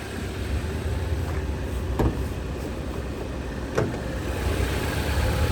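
A 2014 Jeep Patriot's 2.4-litre four-cylinder engine idles smoothly and steadily at close range, with a couple of faint clicks over the even hum.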